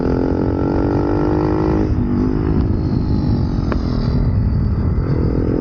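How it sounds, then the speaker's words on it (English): A Honda Monkey motorcycle fitted with large Brembo brake calipers, held with the brake on, gives a steady close engine drone with a faint squeal from the caliper running throughout. "Get a nice sound off the caliper as well when the brake's on."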